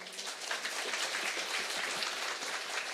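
Applause from a church audience after a parenting lecture, a steady wash of many hands clapping at moderate level throughout, with no voices over it.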